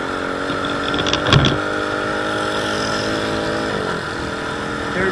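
A motorcycle engine runs loud and steady as the rider shifts through the gears. The even drone carries a brief mechanical clunk early on and dips slightly in pitch near the end.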